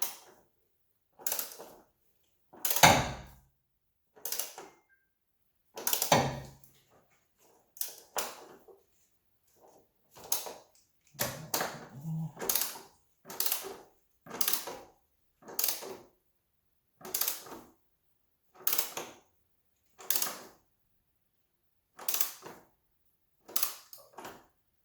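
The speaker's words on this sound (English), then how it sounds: "Now we're going to torque these bolts down to 29 foot-pounds" Torque wrench clicking and ratcheting while strut bar bolts on a car are tightened down to 29 foot-pounds, a steady series of sharp mechanical clicks and creaks, close and clear, with no talk.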